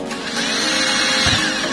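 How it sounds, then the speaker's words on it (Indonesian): A power drill boring a hole through a plastic water gallon, a steady loud whirring grind running the whole time, with a brief heavier bite near the end. "Nah, kita bor di sini."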